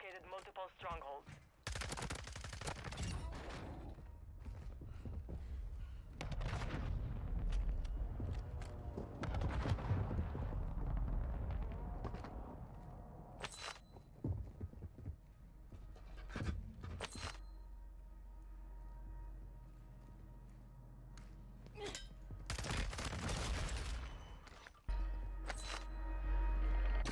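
Gunfire in a Warzone 2 match with an STB-556 rifle: scattered loud shots and short bursts, some close and some farther off, mixed with game sounds and intermittent talking.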